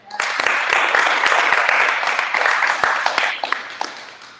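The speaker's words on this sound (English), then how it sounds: "Clap it up." An audience at a grand opening event breaks into applause, a loud burst of close, crisp clapping that swells quickly and then thins out toward the end.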